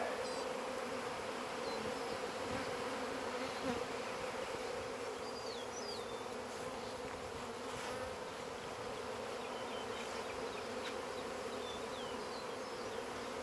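Carnica honeybees swarm around the back of a hive as they return, making a steady, dense buzzing drone close by throughout, with faint bird chirps in the distance.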